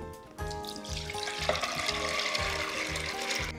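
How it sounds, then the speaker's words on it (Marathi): Soaked chana dal lentils and their water pour and splash into a pressure cooker, a wet, continuous gush over a faint rhythmic low thumping. "कुकरमध्ये ही भिजलेली डाळ घालून घ्यायची, त्यातल्या पाण्यासकटच घालून घ्यायची"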